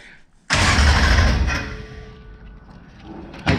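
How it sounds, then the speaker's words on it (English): A swapped Coyote V8 in a Dodge Challenger cranks for the first time with an abrupt loud mechanical burst from the starter, a rough churning roar that fades over a few seconds before a short clunk at the end. "I think that sound is just the starter disengaging"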